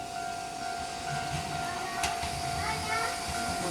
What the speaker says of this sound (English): it's a 1 carriage diesel train